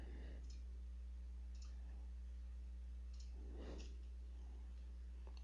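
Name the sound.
computer mouse clicking in CAD software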